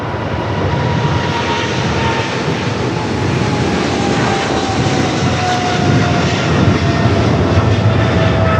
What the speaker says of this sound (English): Full air cargo 777 freighter heading to Cincinnati